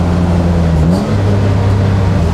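A garage-built BMW E36 engine revs on a race track, holding a steady, loud drone that dips briefly before climbing back. No voices are heard.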